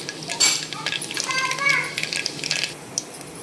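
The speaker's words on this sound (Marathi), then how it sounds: "तर आता याच्यामध्ये आपण मोहरी टाकून घेऊ। मोहरी छान फुलू द्यायची" Mustard seeds and cumin sizzle and pop in hot oil in a pressure cooker, a continuous crackling fry with a few clinks of a utensil, while children's voices chatter in the background.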